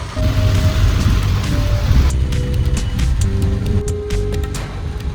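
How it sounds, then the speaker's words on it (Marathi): Heavy monsoon rain in Mumbai pours in a dense, constant roar, with a vehicle's engine rumble underneath and scattered sharper patter of drops. "म्हणजे समजा किती जोरात पाऊस आहे"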